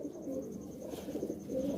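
A pigeon coos softly and close by, a faint low murmuring call repeated a few times over quiet background hiss.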